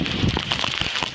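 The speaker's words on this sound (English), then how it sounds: "dumping torrential rain" Torrential rain from a Category 1 hurricane striking Florida's Gulf Coast, a brief burst of dense crackling rainfall pattering on a surface at moderate level.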